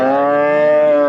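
A single loud, close cow moo, drawn out and steady for about a second.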